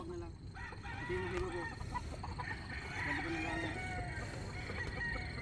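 Chickens cluck and a rooster crows repeatedly in a busy farmyard din while poultry is being loaded for hauling, with faint voices in the background.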